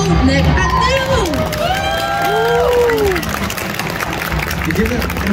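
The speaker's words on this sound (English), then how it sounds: "Please give a huge round of applause for Stephanie, Maggie, Nicole, Nick, and Neil!" An event crowd at Insomnia i70 applauds and cheers for voice actors, a loud continuous wash of clapping with whoops and shouts while a host talks over it.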